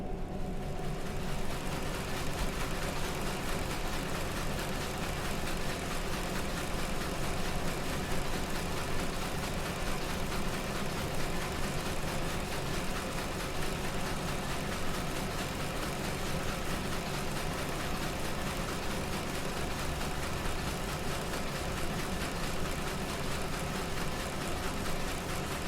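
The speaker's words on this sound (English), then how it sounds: "You are met with the sound of multiple machines whirring away." Several machines whirr away in a room, a steady, dense hum of mechanical drone with low engine-like tones that runs unbroken and fairly loud throughout, with no voices.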